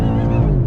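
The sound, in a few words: BMW M8 convertible engine accelerating on throttle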